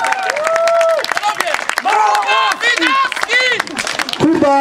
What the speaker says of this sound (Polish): Wielki brawa Jakub Widawski!